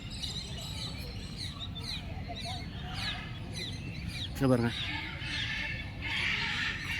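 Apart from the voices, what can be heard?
birds calling in aviary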